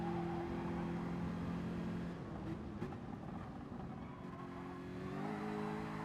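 Race cars in a racing video game roar together with droning engines that shift in pitch as they accelerate and brake through a corner, close and steady.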